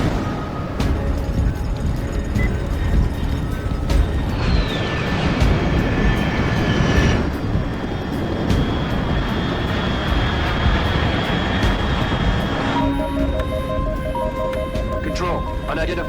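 A fast unidentified aircraft roars past in the Metal Gear Solid Delta game, a loud sustained jet rush with rising and falling whine under a radio voice, and a pitch sweep as it passes.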